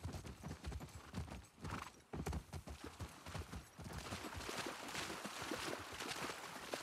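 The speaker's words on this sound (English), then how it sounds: "I'm gonna have to leave the horses here." Horse hooves clip-clop in The Last of Us Part II, a fairly faint, quick and uneven rhythm of clopping steps mixed with game ambience.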